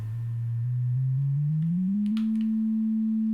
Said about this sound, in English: we're hearing a sine wave